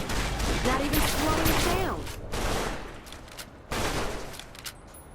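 Video game gunfire with sci-fi vaults and experiments comes as three dense bursts of rapid shots, loud and close, separated by brief gaps, with faint voices mixed in.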